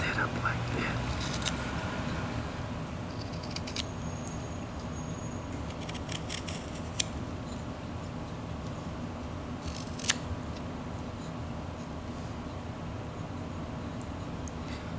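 A knife carves into wood while whittling a flat-plane figure, with scattered small scraping cuts and clicks over a steady room hum, close and fairly quiet.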